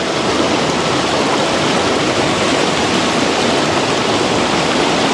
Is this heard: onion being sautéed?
no